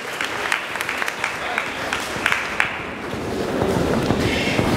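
Applause from a live audience at a presented show, dense steady clapping throughout with slight swells, fairly near and continuous across the whole stretch.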